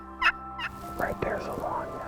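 A turkey gobbles in a short, rattling burst, with a second call and further warbling notes following over a faint low hum, close and clear.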